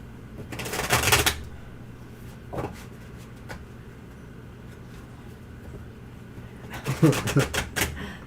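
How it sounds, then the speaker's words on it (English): A deck of tarot cards shuffled by hand, a loud close riffle at the start, a brief soft flick in the middle and another cluster of shuffling near the end, over faint room noise. "Yes, Sonny, I'm shuffling again."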